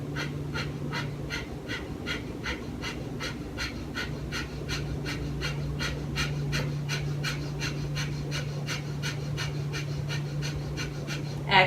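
Rapid, evenly paced pumping breaths from a yoga breathing exercise, a steady chain of sharp exhales about twice per second, close and continuous, with a low hum underneath.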